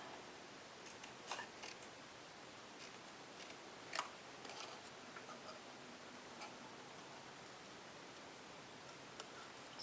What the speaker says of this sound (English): so I'm just going to do it with my paper snips